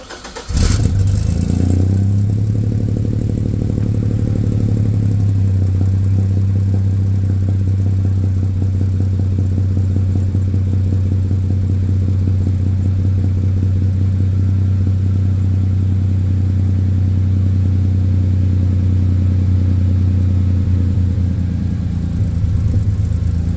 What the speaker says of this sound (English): we're going to do a first start with the new exhaust